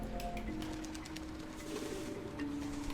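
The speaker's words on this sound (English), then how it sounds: "The birds are fluttering, but I'm sneaking" Pigeon-like cooing with soft wing flutters from birds in the video game Antichamber, a steady low coo drifting under sparse clicks, fairly close and moderately quiet throughout.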